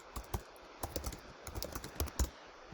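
Fingers tap out a short burst of keystrokes on a computer keyboard, the clicks irregular and close-up, with small pauses between quick clusters and no talking.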